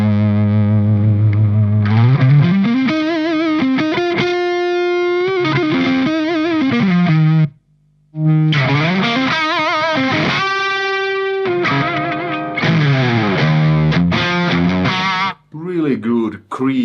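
An electric guitar runs through a Human Pedals Amp Driver overdrive pedal into a clean amp, playing warm, saturated blues-rock lead phrases with sustained bent notes and short pauses.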